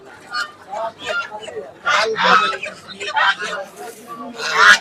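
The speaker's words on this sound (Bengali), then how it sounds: "এখানে দেশি মুরগি আছে, একদম দেশাল মুরগি" Local native chickens at a market cluck in short, irregular bursts, fairly close, with clucks and calls overlapping throughout against a quiet background.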